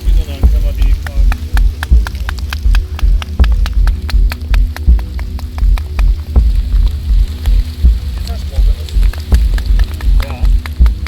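Heavy rain pours during an open campfire in the Black Forest, with a dense, steady patter of drops striking nearby surfaces throughout, close and fairly loud.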